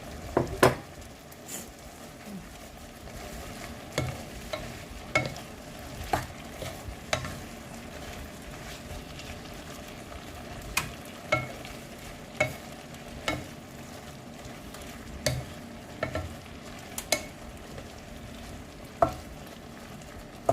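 Minced pork and shrimp stir-fried with red holy basil in a hot pan, a continuous low sizzle broken by regular sharp scrapes and taps of a spatula against the metal, close and steady throughout with no voices.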